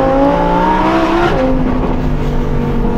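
A Lamborghini Huracan Tecnica's 640-horsepower V10 pulls hard under acceleration, its loud, rising engine note climbing through the revs up close, then dropping briefly as it shifts and carries on.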